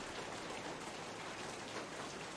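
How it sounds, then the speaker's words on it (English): Steady rain falls in a constant, even hiss as an ambient backdrop for a tabletop game session, with no voices over it. "The rain stops"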